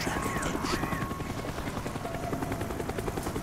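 A helicopter's rotor thumps and churns loudly and continuously in the video game Call of Duty: Black Ops, with faint distant gunfire and mission chatter mixed underneath.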